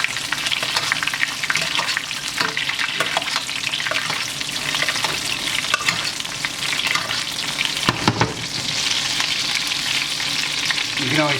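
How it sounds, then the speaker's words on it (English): A ribeye steak sizzles loudly in a pan as it is basted with butter and fat, a dense, constant frying crackle with occasional spoon scrapes and sputters, close up and without talk. "This is going to really lock in the flavor, basting with all that fat, that butter."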